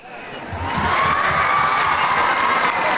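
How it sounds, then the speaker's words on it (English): An audience at the inaugural ceremony of the International Children's Film Festival India cheers and applauds a performer named Saloni, with a loud, steady wash of crowd noise and children's shouts swelling quickly and holding throughout. "huge round of applause for the very lovable Saloni."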